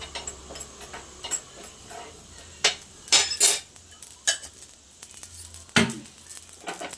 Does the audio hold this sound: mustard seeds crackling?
yes